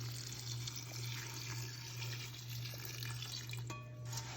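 Water poured from a container over the top of a minimalist terrarium in an urn-style tray, a steady continuous trickling and splashing stream heard close up with no voices.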